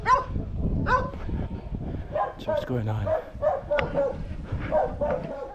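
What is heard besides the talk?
dog barking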